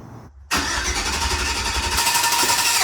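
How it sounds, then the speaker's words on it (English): A 1955 Ford truck engine, jump-started with the neutral safety switch bypassed, starts up after a brief silence and runs loud and steady, close by, with a rough mid-range roar. "We're just gonna jump start it and bypass the neutral safety switch."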